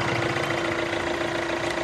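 A 1.6-litre diesel car engine idles steadily in a second-hand car with a sunroof, a continuous close mechanical hum and clatter with a faint tonal whine and no speech.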